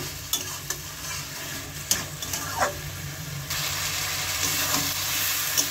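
Malabar spinach (puishak) cooking with mixed vegetables in a pan, a steady broadband sizzle with occasional stirring scrapes and clicks, growing louder midway, no talking.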